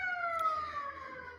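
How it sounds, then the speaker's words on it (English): Ambulance sirens pass by a house, heard as a faint, distant wailing tone that falls in pitch over a brief moment, with no talk. "We've got ambulances driving by my house this morning."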